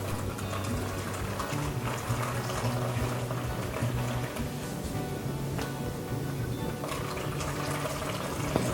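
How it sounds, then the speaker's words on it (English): Nut milk squeezed from a nut milk bag makes a continuous close splashing trickle of liquid streaming into a container, steady throughout with small gurgles and no voices. "And milk comes out at the other end."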